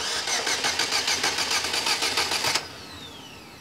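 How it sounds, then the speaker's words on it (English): A car engine cranks over with its fuel injectors disconnected, the starter's rapid rhythmic chugging loud and close for a few seconds before it stops, leaving a faint fading whine. "Now we're going to crank the engine over for around 20 seconds."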